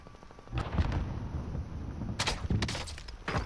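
Gunfire in Call of Duty, a burst of shots around the middle, then a louder cluster of sharp blasts later on, close and loud over a steady game background.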